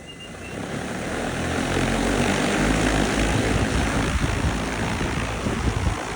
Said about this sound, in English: We're going to spray up the hillsides, all with the EAVision drones.